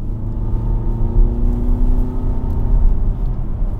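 A 2000cc turbo car engine pulls steadily under acceleration, its droning pitch climbing gradually, heard loud and close from inside the vehicle.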